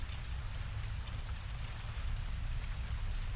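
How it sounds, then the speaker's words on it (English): Steady, heavy rain pours down in a continuous hiss with a low rumbling undertone, no voices present. "As the rain continued to pour outside and the thunder roared, John finally acknowledged the truth"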